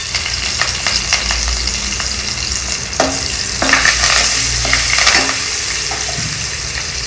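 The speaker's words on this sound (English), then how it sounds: "just take 1 tablespoon of oil, add some curry leaves to it, a few green chillies," Curry leaves and green chillies fry in about a tablespoon of hot oil, giving a loud continuous crackling sizzle with bursts of spitting and a few stirring clinks, no talking.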